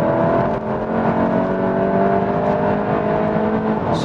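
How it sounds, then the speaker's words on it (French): A Volkswagen Golf 8 GTI petrol engine revs hard toward 6500 rpm, a loud, close, steadily climbing engine note heard from inside the car with no talking. "Ce moteur essence qui pousse jusqu'à 6500 tours, c'est vraiment sympa."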